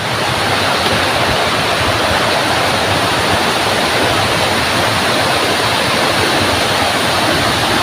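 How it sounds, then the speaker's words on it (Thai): A forest waterfall swollen after a full day and night of rain, with fallen pine trees across the stream, roars in a loud, unbroken rush of water close by, with no talking. "น้ำตกก็จะไหลลงไปข้างล่างนะคะทุกคน"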